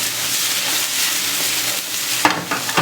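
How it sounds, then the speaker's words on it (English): Salmon fish dish sizzling in a pan as it is stirred with a non-stick spoon: a loud, steady frying hiss with a few scraping stirs near the end. "You can simply use your non-stick spoon or your non-stick pudding spoon and just stir it just like this."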